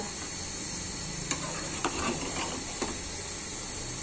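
Pre-boiled, still-hot bottle gourd goes into a pan with potato and fried moong dal for a katla fish curry, making a steady, soft frying hiss broken by a few faint clicks of a utensil, with no voices.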